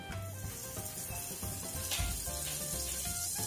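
Butter sizzles steadily in a heated frying pan, a dense close crackle that stays even and continuous throughout with no talking.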